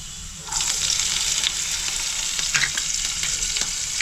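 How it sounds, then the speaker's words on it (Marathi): Cumin seeds and green chili hit hot oil with a sudden burst of loud, close sizzling that settles into a steady crackling hiss with occasional pops and stirring scrapes. "आता त्याच्यामध्ये पहिलं जिरा टाकते, हिरवी मिरची,"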